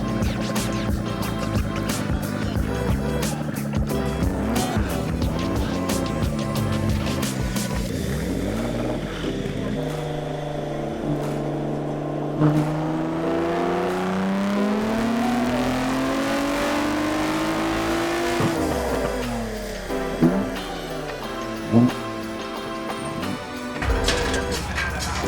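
Nissan Z car with a VG engine revving repeatedly, pitch climbing and falling in long sweeps over a constant loud engine roar, with crowd noise and voices in the background.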